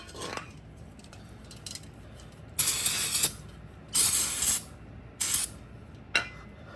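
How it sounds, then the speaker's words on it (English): Brake cleaner sprays onto rear brake parts of a Honda XR100 motorcycle in several short hissing bursts of varying length, close and fairly loud, with quiet gaps between them. "just hit that with a little brake clean"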